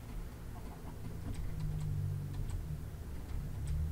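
Chickens in the video game Minecraft give a few short, faint clucks scattered over a steady low hum, with no talking.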